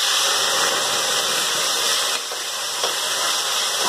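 Tomatoes dropped into hot mustard oil with crackled mustard seeds for a drumstick potato curry, a loud, steady sizzling hiss that eases slightly midway, close up and free of talk.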